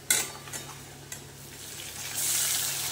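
Spices drop into onion frying toward a golden paste for a Katla fish curry, a steady close sizzle broken by spoon-and-pan clinks and stirring scrapes, the hiss swelling louder near the end, no talk.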